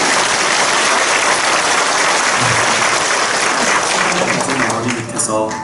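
A church congregation gives dense, sustained applause that fills the space and holds steady, then thins slightly near the end.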